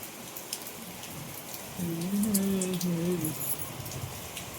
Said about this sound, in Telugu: ఫుల్ వర్షం పడుతుంది చూసారా